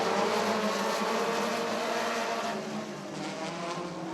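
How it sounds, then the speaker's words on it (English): Open-wheel midget race cars roar past at Rockford Speedway during a heat race, a loud continuous high-revving engine drone from several cars running side by side, filling the clip without talk. "Whoa, it's Kerner and Amon side by side as they almost touched with those open wheel cars"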